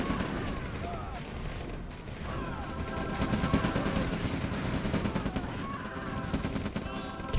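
Artillery counter-battery fire in the real-time strategy game Combined Arms, a dense continuous barrage of overlapping shots and booms with busy battle noise throughout, loud and sustained.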